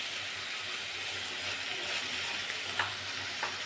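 Brinjal and tomato chutney frying in a pan gives a continuous soft sizzle, with a couple of brief stirring scrapes near the end; no talking.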